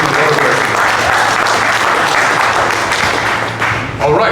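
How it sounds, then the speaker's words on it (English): Sustained audience applause at a Legacy Boxing Promotions 'The Reckoning' boxing event, a dense, loud roar of clapping that dips briefly near the end before swelling again. "Let's give them a big round of applause."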